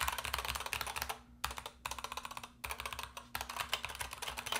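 Typing on a Corsair K70 Max keyboard with magnetic switches, rapid close-up clacking keystrokes in quick bursts separated by two brief pauses, with no talking.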